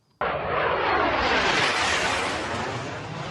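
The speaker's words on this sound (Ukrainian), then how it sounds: "Українські винищувачі пронизують небо." Ukrainian fighter jets roar overhead near Bakhmut, a loud broadband rush that bursts in suddenly and sweeps across the sky, holding strong before easing slightly.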